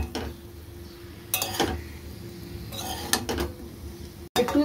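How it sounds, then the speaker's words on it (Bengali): A utensil scrapes through spice paste and cauliflower in a pan in a few separate bursts of stirring, quiet and close, with a low steady hum in the background between the strokes. "এবার এটাকে মশলাটাকে ফুলকপির সাথে ভালো করে মিশিয়ে নেব।"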